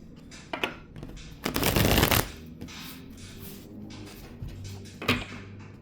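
A tarot card deck being shuffled by hand, with soft riffling and flicking cards and one dense, louder burst of shuffling in the middle, alone and close up.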